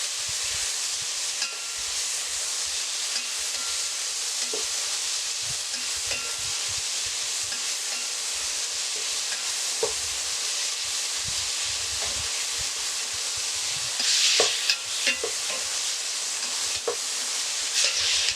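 Finely chopped tomatoes sizzle and fry in a pan for Karnataka-style drumstick sambar, stirred steadily with a spoon, a continuous close hiss with scattered scraping taps and no talking.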